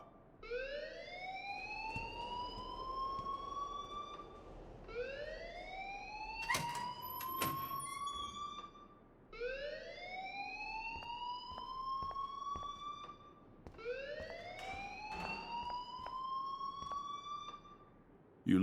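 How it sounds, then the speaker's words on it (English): A repeating electronic alarm in the video game Life Is Strange, rising whoops that sweep upward in four bursts of about four seconds each, loud and steady with some clicks between. "please turn off that alarm since that's your job"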